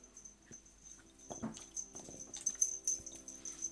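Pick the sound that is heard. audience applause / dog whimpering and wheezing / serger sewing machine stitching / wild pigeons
dog whimpering and wheezing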